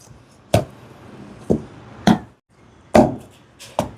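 A stone mortar pounding sesame seeds and sugar, five separate dull thuds spaced roughly a second apart, fairly close and distinct against quiet background.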